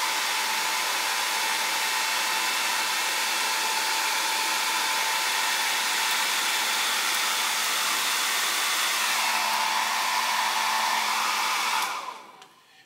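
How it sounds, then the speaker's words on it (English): A hair dryer blows a steady, loud, whooshing airflow to warm tape so the adhesive softens before removal. The tone shifts slightly partway through before the dryer cuts off at the end. "I have a hair dryer, and what this can really help me to do is for drying paint"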